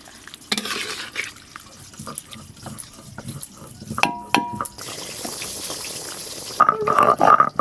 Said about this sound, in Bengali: এবার পরিমাণ মতো জল দেবো।